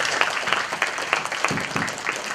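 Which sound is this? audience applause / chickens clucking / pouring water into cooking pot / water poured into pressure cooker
audience applause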